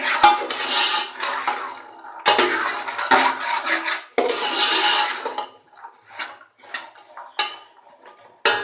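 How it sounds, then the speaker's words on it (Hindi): A spoon stirs and scrapes black chickpeas around a pan during roasting, giving several close, scratchy bursts of rattling and scraping with short pauses between them and no talk. "और उसके बाद इसमें चने शामिल करेंगे। अब इनको मिक्स करेंगे।"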